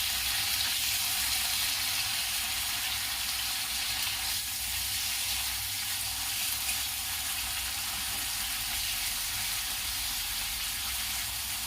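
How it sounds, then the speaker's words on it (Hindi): Paneer frying lightly in a pan for a mixed vegetable dish, giving a steady, even sizzling hiss that runs unbroken throughout, fairly close and moderately quiet. "और पनीर उसमें डाल के फ्राई कर लूंगी।"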